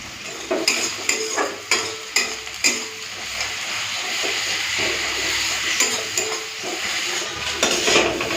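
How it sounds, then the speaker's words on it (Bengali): Onion fries with ginger garlic paste in a pan, producing a close, steady sizzle overlaid with a series of sharp stirring scrapes and clinks against the metal. "পেঁয়াজটা পুরো লাল লাল করে ভাজা হয়ে গেছে আদা রসুন বাটাটা দিয়ে দিই"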